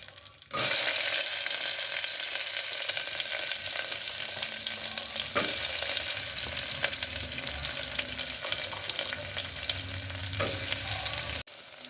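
Onion frying in a pan with cumin seeds and curry leaves, a steady close crackling sizzle with occasional stirring scrapes, running continuously for about eleven seconds before cutting off abruptly.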